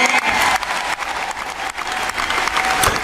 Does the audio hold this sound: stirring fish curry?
no